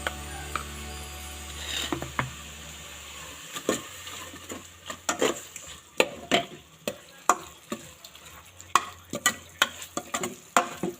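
Pork stir-fried with curry paste in thin coconut milk: a low sizzle under rapid, rhythmic spatula scrapes and knocks against the pan, getting sharper and more frequent as the stirring picks up.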